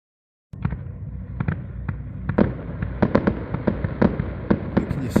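Fireworks display at night beside Loch Lomond in Scotland: a run of sharp bangs and crackles in quick, irregular bursts, loud and fairly close, with pops growing denser toward the end.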